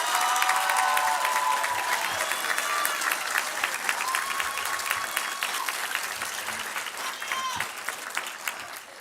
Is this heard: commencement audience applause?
yes